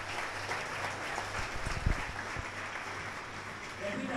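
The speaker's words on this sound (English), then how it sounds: "How many of you give a great round of applause to the Lord?" Congregation applauding in a church during a sermon, a short burst of clapping mixed with a steady hum and background noise, fairly faint.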